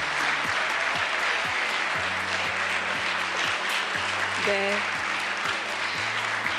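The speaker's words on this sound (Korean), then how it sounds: "많은 분들께서 아마 감동 어린 박수를 보내주시고 계신 것 같은데요" Applause from an audience at a Korean government national affairs briefing, a steady, moderately loud wash of clapping under a low sustained hum with a few tonal blips.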